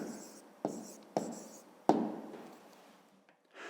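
A pen writes a number in a maths exercise on a fifth-grade pyramid problem, giving a few short scratchy strokes, each starting with a tap and fading out, close and quiet.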